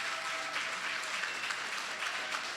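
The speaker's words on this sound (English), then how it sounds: "Please give him a loving round of applause." Steady, dense applause from an audience at a Saturday morning forum, greeting a judge introduced on stage; the clapping fills the room, sustained and even throughout, with no speech over it.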